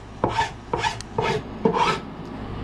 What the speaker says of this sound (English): And then again, take the file. Couple quick swipes